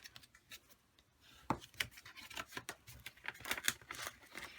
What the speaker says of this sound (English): So we will take our bone folder and crease those score lines.